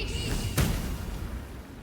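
A fireball spell blasts through a wall in Baldur's Gate 3, one sudden broadband burst partway through that settles into a low rumbling tail over steady game ambience.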